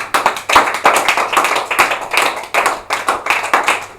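A church congregation claps and applauds together, steady dense hand clapping in uneven waves, loud and close, with no talking over it.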